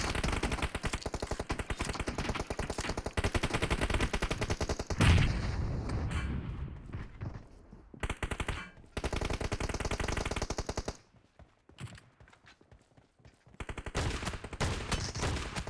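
Rapid automatic gunfire from a shooter video game, dense sustained bursts with brief gaps and pauses, loud and close throughout.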